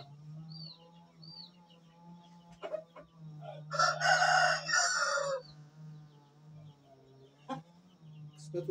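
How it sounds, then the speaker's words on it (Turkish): An Indian fighting rooster (Hint horozu) crows once in a loud, close burst, with a few softer clucks and bird sounds around it over a steady low hum. "bu benim reis dediğim horozum."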